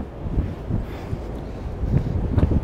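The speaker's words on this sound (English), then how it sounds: "It's too windy." Strong wind buffets the microphone on the open front deck of the cruise ship Celebrity Reflection, a steady low roar with heavier gusts surging near the end and no talk.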